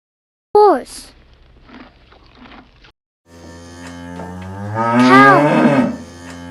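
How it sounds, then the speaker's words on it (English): A cow moos loudly and close up in a long, drawn-out call, following an earlier shorter low moo and some quiet shuffling. "Cow."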